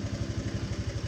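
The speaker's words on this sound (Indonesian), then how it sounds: "Kita starter. Oke, hidup." A Honda Vario 125 scooter engine idles just after starting, a steady close putter with an even rhythmic pulse throughout.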